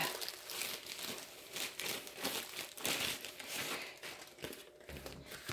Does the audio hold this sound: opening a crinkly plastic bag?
yes